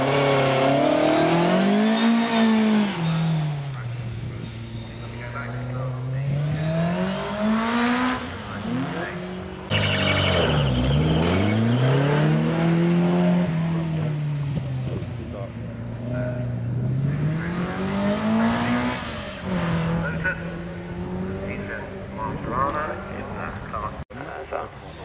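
An Austin Mini race car climbs a hillclimb course at Wiscombe Park, its engine revving hard through repeated rising and falling gear-change sweeps, close and loud throughout, with a commentator talking over it.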